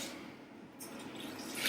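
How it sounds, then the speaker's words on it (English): Water poured from close by onto dried cranberries and oats in a pot, a brief soft splash and drip with a slight rise at the end, heard alone without talk. "I just top that up with a little bit of water."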